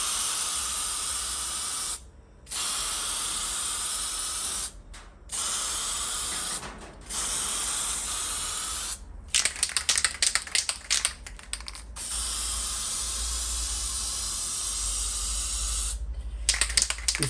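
Spray gun applying edge primer to the battery tray of a VH Valiant Charger under restoration, a steady loud hiss in long bursts broken by short pauses, with crackly spitting toward the end.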